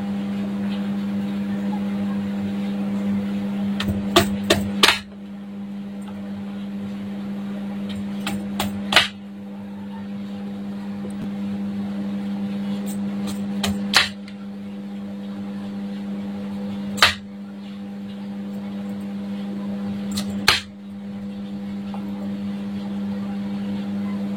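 Raw mango being chopped into small pieces, clusters of quick sharp knife taps on a board, several rapid chops then single knocks spaced a few seconds apart, over a steady low electrical hum.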